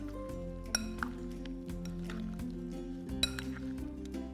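A utensil clinks repeatedly against a glass or ceramic bowl while mango pickle is mixed, bright sharp taps over a low steady hum.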